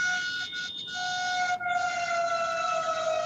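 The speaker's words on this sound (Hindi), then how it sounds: "लगातार सायरन बजाते हुए लोगों को सावधान सचेत किया जा रहा है।" A warning siren sounds at Bisalpur dam before its gates open, giving a steady, continuous multi-tone wail that holds level throughout, heard alone at a moderate distance.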